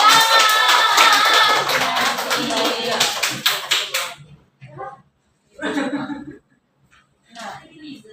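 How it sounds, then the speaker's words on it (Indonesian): A classroom of students applauds together, a dense burst of many hands clapping for about four seconds that then thins into scattered, brief rustles and taps. "Beri tepuk tangan."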